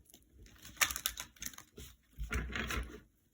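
Rider-Waite tarot cards are shuffled by hand, giving a few quick papery riffles and soft slaps in bursts over a few seconds, close and moderately quiet with no talking.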